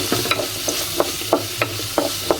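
Potatoes sautéing in a pan for a Bengali pui shak (Malabar spinach) curry: a steady bright sizzle with several sharp spatula scrapes and knocks against the pan at an uneven rhythm, close and fairly loud, no voices.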